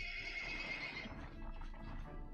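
A game horse named Roach in Wartales gives a high neigh at the start, which fades into soft hoof clops and ambient noise.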